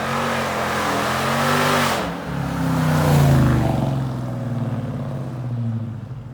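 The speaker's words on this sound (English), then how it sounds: "JBA Catless mids, and Hellcat stock exhaust with the active valves open" A Hellcat engine with JBA catless long-tube headers and mids runs through the stock exhaust with its active valves open, a loud, deep continuous rumble that swells and falls as the revs shift, heard alone and up close.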